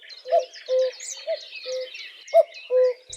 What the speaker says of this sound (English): Males are the ones that make the signature cuckoo sound that we all know and love.